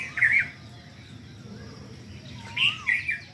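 Morning birds chirping in short bursts, one call at the start and another pair near the end, over a quiet, faintly humming background.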